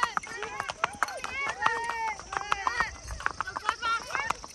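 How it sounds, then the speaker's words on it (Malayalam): Horse hooves clip-clop in a fast irregular patter during a ride in Kashmir, close and moderately loud, mixed with chirpy tonal sounds and some voices in the background. "പക്ഷെ കുതിര കുറച്ച് ഷെയ്ക്കിംഗ് ഉണ്ട്"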